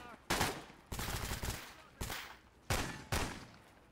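Gunfire from a firefight in Stalker GAMMA, five loud, close bursts of shots spaced roughly half a second to a second apart, each decaying quickly before the next.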